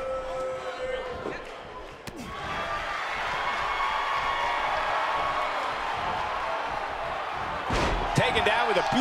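A suplex takedown in the WWE 2K18 wrestling video game hits with sharp slamming thuds, one early and one near the end, over a constant loud arena crowd.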